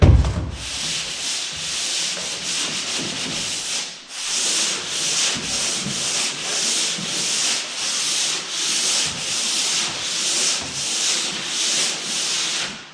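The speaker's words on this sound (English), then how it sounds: "Do a little bit of sanding here and get it ready." Rhythmic back-and-forth sanding strokes rasp against dried drywall compound, close and steady, with a brief pause partway through.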